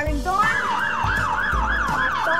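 Toy fire engine siren wailing in a loud, rapid up-and-down cycle, close and continuous, with a low rumbling sound underneath.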